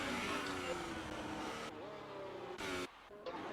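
A race car engine in an online sim racing game drones steadily on the circuit, its pitch rising and falling through gear changes, with brief dips as the car comes off the throttle.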